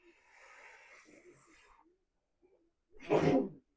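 Faint muffled voices fade out, a short pause follows, then one loud, sharp sneeze bursts out close by.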